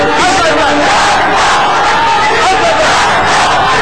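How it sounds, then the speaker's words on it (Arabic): A loud, dense crowd roars and cheers continuously at a full contact fighting title match, steady and close with no breaks. "بلش تشجيع الجمهور يزيد للاعبنا محمود الاسمر"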